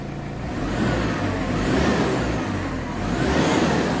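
A Ford Ranger 2.5 WL diesel engine with a wrong firing order revs steadily, a loud, continuous close-up drone that swells and eases in several rises.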